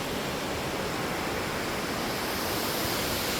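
Bridal Falls, a waterfall along Kennon Road, roars with a dense, constant rush of falling water, loud and close, with no breaks and no voices.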